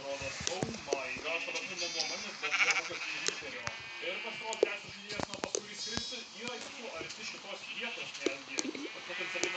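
Sheep in Minecraft bleat several times in short wavering calls scattered among clicks and game noises, while a person talks quietly throughout.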